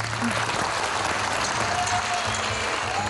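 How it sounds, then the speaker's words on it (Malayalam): A studio audience on a Malayalam TV talk show breaks into steady, full applause, loud and close, filling the whole short moment. "അതിനൊരു കയ്യടി"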